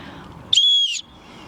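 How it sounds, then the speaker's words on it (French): A small plastic whistle on a multi-function outdoor gadget gives one loud, shrill, steady blast of about half a second, with faint background hiss before and after. "nous avons un petit sifflet qui nous est très utile et qui permet de nous faire entendre"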